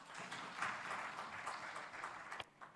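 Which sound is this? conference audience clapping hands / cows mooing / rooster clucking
conference audience clapping hands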